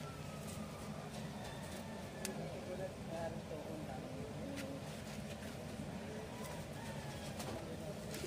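Pigeons cooing softly in a loft, low and somewhat distant beneath a steady background rumble, with occasional faint clicks and indistinct voices mixed in.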